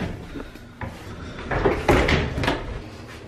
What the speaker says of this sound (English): The bathroom door slide too.